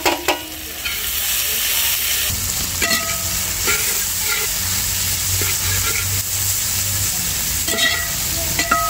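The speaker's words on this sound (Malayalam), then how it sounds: "അപ്പം ഞാൻ ഉള്ളി ഇതിൽ ആഡ് ചെയ്യാൻ പോകണം." Onions frying in hot coconut oil for a village chicken curry make a loud, steady sizzle, with repeated metallic scrapes and clanks of a spoon in the pot and a low rumbling hum partway through.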